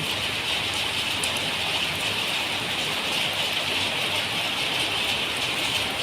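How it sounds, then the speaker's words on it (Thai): Sudden heavy rain pours down in a dense, unbroken hiss, loud and close, steady from start to finish with no voices. "ฝนตกเฉยนะครับฝนตกเฉยเนาะ"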